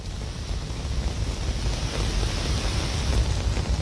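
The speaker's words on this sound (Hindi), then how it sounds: "यहाँ पर आप देख सकती हैं कितनी तेज बारिश यहाँ पर" Heavy monsoon rain pours steadily onto a Delhi street in the morning, a loud, dense and continuous wash of noise with some wind buffeting, and no voices.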